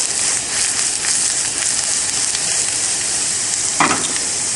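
Eggs and spinach fry in a pan with a steady, close broadband sizzle throughout, and a brief louder crackle near the end.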